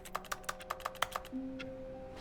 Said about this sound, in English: that's me clicking on crap.